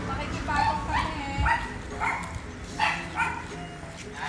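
A dog barks several times off to the side on a village walk, the repeated yips spaced through the moment, fairly faint beneath nearby chatter and footsteps.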